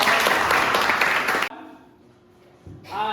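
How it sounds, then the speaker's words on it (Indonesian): Loud, dense clapping from a classroom of students fills the first half, then cuts off sharply into quiet room tone before a voice begins speaking near the end. "Baik, terima kasih, tepuk tangan."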